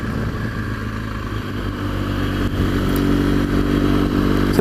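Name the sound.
BMW R1200GS motorcycle riding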